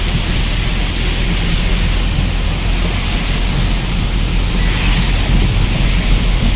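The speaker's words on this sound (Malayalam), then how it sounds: "മഴയ്ക്ക് പവർ കൂടി വരും കേട്ടോ." Heavy rain pours down in a steady, loud, dense roar, heard from a truck on the road in Kerala.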